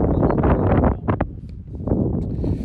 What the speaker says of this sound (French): Il y a un vent de face, léger.